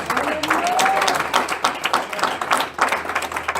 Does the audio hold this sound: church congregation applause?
yes